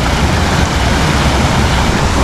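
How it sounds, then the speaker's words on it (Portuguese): Flood water pouring down like a waterfall during heavy flooding in Rio Grande do Sul, a continuous loud roaring rush of water, close and unbroken, no talk. "Olha aí, uma cachoeira."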